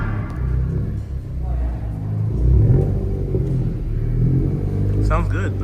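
A Honda Acura Integra fitted with an aftermarket Remark exhaust runs steadily with a deep, throaty rumble, its tone rising and falling slightly as people talk nearby.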